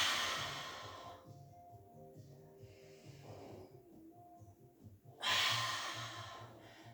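A woman doing a pilates leg lift inhales audibly, close and soft, with quiet breathy sounds over faint room noise and a stronger rush of breath near the end.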